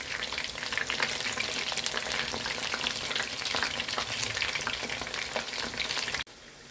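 Chicken 65 pieces, a second batch, deep-frying in hot oil: a loud, dense, steady crackle and bubble that carries on without a break, then drops off sharply near the end.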